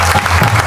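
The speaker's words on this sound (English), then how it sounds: "Please give them a big round of applause." Audience applause at a devotional spiritual program, steady dense clapping filling the short moment with no talking over it.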